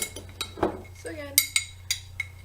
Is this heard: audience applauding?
no